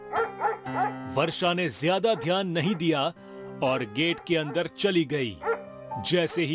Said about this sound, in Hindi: गेट के बाहर एक कुत्ता जोर जोर से भौंक रहा था।